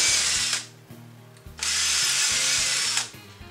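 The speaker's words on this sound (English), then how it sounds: "what I need to do is drill holes for the screws that are going to hold it to the wall" A power drill bores screw holes into a wooden coat rack in two loud, whirring bursts with a short pause between them, close and clear.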